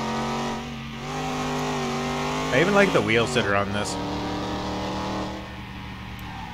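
A Chevrolet Caprice's engine roars and revs in Car Mechanic Simulator 2021, a loud steady drone with a brief rising rev in the middle while someone talks over it.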